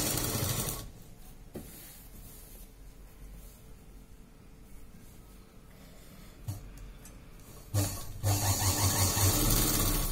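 A sewing machine stitches Bermuda half-pants fabric in short, quiet bursts of whirring with pauses between, ending in a louder, faster run of stitching close by.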